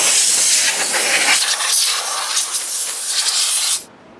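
Compressed air blasts steadily over a car tire to dry it after a hand wash, a loud, broad hiss lasting nearly four seconds before cutting off abruptly.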